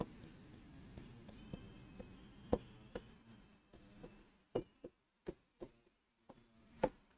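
Chalk or marker writing an example on a classroom board during a chemistry lesson, heard as a series of faint, irregular taps and scratchy strokes close by against quiet room tone.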